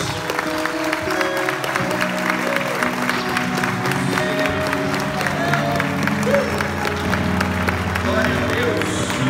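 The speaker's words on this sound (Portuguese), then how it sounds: "Você pode aplaudir a Jesus" A church congregation applauds during a worship celebration, steady sustained clapping from a crowd mixed with murmured voices and a lingering musical backdrop, moderately loud throughout.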